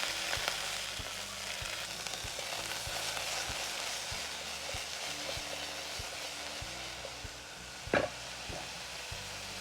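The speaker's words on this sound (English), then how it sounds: "Now it's time to fry." Tripe frying in an inherited pot, a steady dense sizzle and crackle throughout with faint stirring and one sharp metallic knock near the end.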